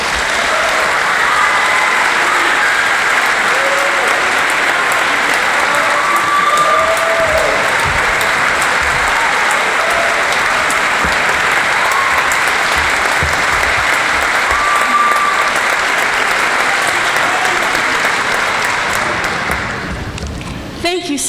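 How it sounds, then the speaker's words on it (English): A school academic awards ceremony audience claps loudly and steadily for about twenty seconds, a dense unbroken wall of applause that tapers off at the end. "So please give a round of applause for Miss Paula Brown."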